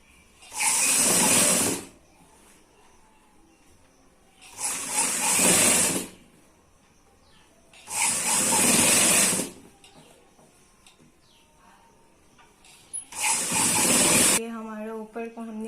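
A sewing machine stitching a high-low ruffle tunic dress runs in four separate bursts of steady whirring, each lasting a second or two, with quiet pauses between them.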